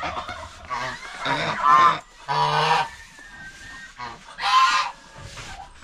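Geese honking in a series of loud, close calls at an enclosure, several bursts spread across the stretch with short gaps between them.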